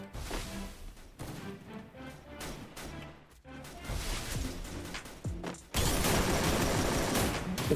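Rapid bursts of gunfire crackle in the Free Fire battle royale game, with clustered shots and a dense, louder barrage near the end.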